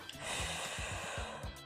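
A deep, wide inhale during a breathing exercise in an upper-body and core workout, heard as a close, broad airy breath that fills most of the short span, with faint low thumps beneath it.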